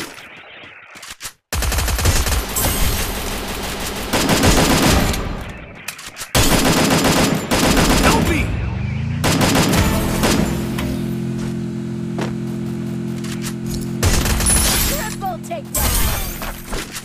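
Rapid M4A1 automatic gunfire in the mobile shooter Free Fire, loud bursts of dense shots with gaps between them, alongside game effects and a rising engine-like tone midway.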